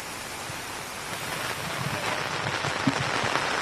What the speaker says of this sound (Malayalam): നമുക്ക് ദൃശ്യങ്ങളിൽ കാണാൻ കഴിഞ്ഞ പോലെ തന്നെ ശക്തമായ മഴയുണ്ട്